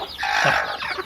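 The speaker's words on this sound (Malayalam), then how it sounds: "ഇത് നമ്മുടെ കൈരളി കോഴിയാണ്" A single Kairali hen gives a short, loud, close-up burst of clucking, alone without other sounds.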